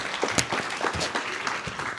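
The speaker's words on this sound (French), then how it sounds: "J'applaudirai le préfet" Audience applause at a French public meeting in a hall, a steady dense patter of clapping filling the short stretch at moderate level, with no voices standing out.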